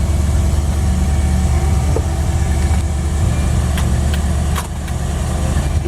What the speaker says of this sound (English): We're going to fire it up here. Starts up instantly.